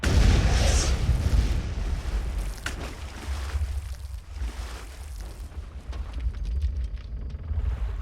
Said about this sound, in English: An explosion rocked the U.S.